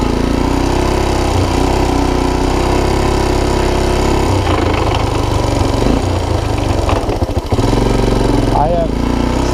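A worn Honda TRX250 ATV engine runs loud and close throughout, its steady drone turning rough and uneven partway through with stumbles and shifts in pitch.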